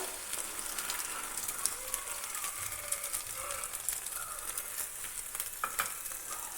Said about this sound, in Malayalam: നമ്മൾ എടുത്തു വച്ചിരിക്കുന്ന മുട്ട ഇതിലേക്ക് ചേർത്ത് കൊടുക്കാം